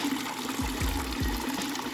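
Water runs steadily to fill a homemade backyard tub, a continuous close gushing wash with a few low gurgling bubbles, and no talking.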